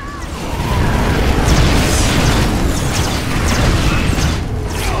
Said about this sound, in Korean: 미사일 발사